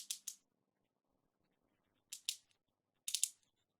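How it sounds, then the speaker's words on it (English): A MetMo pocket screwdriver's ratchet gives short bursts of two or three crisp rapid clicks, close and isolated, separated by near-silence. "It's a cool screwdriver with a ratchet function."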